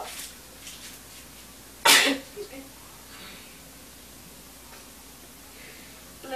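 A single sharp, loud sneeze bursts out near the middle, followed by a brief sniff, set against quiet room tone.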